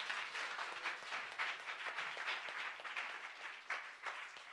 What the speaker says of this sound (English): Let's give Ilse a round of applause.